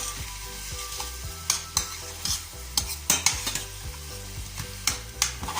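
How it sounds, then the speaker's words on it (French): Apples caramelizing in a pan, stirred regularly, give a constant close sizzle with repeated scraping strokes and light clinks of the utensil against the pan, no talking. "On vient régulièrement mélanger les pommes afin qu'elles ne collent pas et qu'elles ne brûlent pas."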